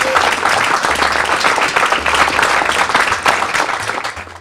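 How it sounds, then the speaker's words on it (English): An audience at a business roundtable gathering claps in a sustained, dense round of applause, loud and continuous throughout with no talk over it. "I think we owe them a resounding round of applause."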